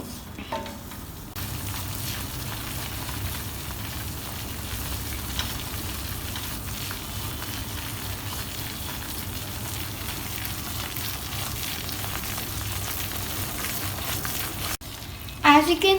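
Onions and mushrooms with flour frying in a pan over medium heat for a cheesy macaroni béchamel give off a steady close sizzle, continuous and even, with faint stirring scrapes.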